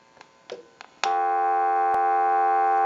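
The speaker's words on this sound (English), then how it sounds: "we can go ahead and give you dial tone again." TA-1042 military field telephone, a few faint clicks and a short blip, then a steady loud dial tone that starts abruptly and holds unbroken to the end.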